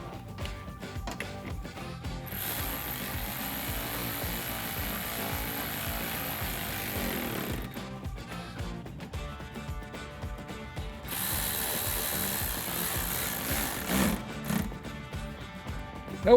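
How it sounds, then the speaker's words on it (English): A hand ratchet with a 7/32 socket clicks rapidly and steadily, tightening fender flare bolts on a 2009-2014 Ford F-150, the ratcheting continuing close up for the whole stretch with brief pauses between strokes. "Now we'll tighten those down with our 7/32 socket."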